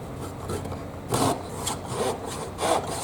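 A Zona 24TPI Japanese pull saw rasps through a thick piece of wood in several slow, rhythmic strokes, each a short scratchy pulse close by with quiet pauses between.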